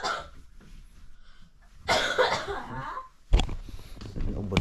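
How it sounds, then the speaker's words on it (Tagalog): Two bursts of coughing stand out against a quiet room, a harsh fit in the middle and another sharp cough near the end. "Ubo ng ubo."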